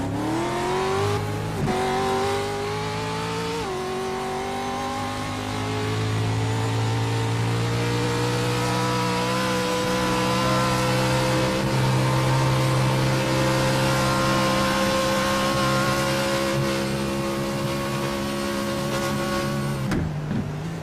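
Off-road truck engine screaming at high speed in an esports short-course racing game, a loud sustained roar with rising pitch sweeps as gears shift, running continuously with no talk.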